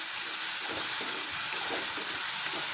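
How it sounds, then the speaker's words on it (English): Onions frying in a pan, giving a steady, close sizzle with a faint stirring scrape now and then. "Let it fry once."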